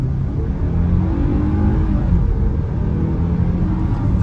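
A 2022 Hyundai Tucson N-Line accelerates from a standstill in sport mode, its engine a steady, close rumble rising under load with no talking.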